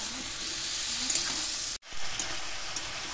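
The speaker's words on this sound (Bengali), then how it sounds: "মশলা দিয়ে খুব ভালো করে কষিয়ে নেব।" Mixed vegetables sauté with spices in a hot pan, giving a close, steady sizzle with soft stirring scrapes and one brief cut to silence near the middle.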